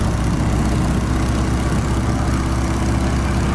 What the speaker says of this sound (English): Really nice change in engine note there as we come up on the power.